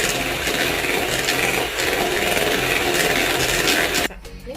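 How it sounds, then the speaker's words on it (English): A whisk scrapes and rattles steadily around a bowl of Japanese cotton cheesecake batter, a dense continuous rubbing clatter that runs for about four seconds and then stops abruptly. "I'm going to continue to whisk."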